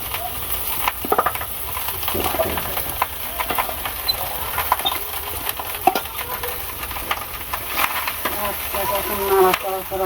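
Leftover rice is stirred in a frying pan with oil, giving a close, continuous sizzling hiss broken by irregular scraping clicks of the utensil against the pan, with a voice speaking at times.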